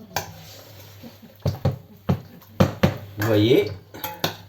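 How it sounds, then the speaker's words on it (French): Spoon clinking and scraping against a pan while stirring carbonara with egg yolk, a series of sharp metallic knocks and a short scraping swirl, close up, with a brief spoken phrase in between. "Je remue. Il ne faut pas que le jaune d'œuf coagule."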